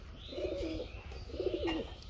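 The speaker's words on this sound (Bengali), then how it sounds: "খুব সুন্দর কবুতর বন্ধুরা দেখতে পাচ্ছেন" A racing pigeon coos up close, two soft rolling calls separated by a brief pause, quiet against a faint room background.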